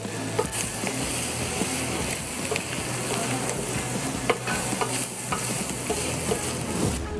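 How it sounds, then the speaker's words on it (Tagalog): Chopped lechon sisig sautés in a pan, a continuous sizzle of frying broken by frequent scraping and clinking as a utensil stirs it, close up and with no talking. "igisa sa ating kawali. Halu-haluin lang natin hanggang mag-brown ng konti."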